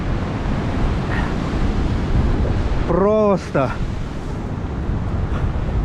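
Storm waves and a strong wind roar in a constant loud rush along the wet Sudak seafront in Crimea, with a brief voice and a whistling squeal over the din partway through.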